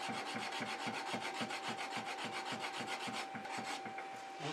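Rhythmic back-and-forth rasping of a wooden candle ornament piece being sanded flat on a belt sander or flat board, steady scraping strokes about three per second, close and continuous with no talking.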